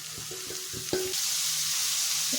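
Green onion fries in masala in a pan, giving a loud, close, steady sizzle after a few quick scraping stirs at the start.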